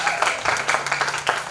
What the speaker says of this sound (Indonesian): Sekali lagi tepuk tangan bagi Tuhan Yesus.